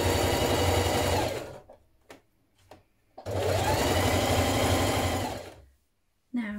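A sewing machine stitching the side seams of a 1960s vintage dress with a 1.5 cm seam allowance, two long runs of fast, steady motor whirring separated by brief handling clicks, close and alone.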